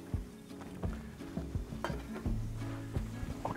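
A Cape Grim rib fillet steak sizzles on a hot barbecue grill with the lid down, under repeated clanks and scrapes of utensils against metal, fairly close but not loud.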